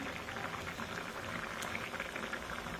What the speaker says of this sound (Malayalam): കടലക്കറി നന്നായി തിളച്ചുകൊണ്ടിരിക്കുകയാണ്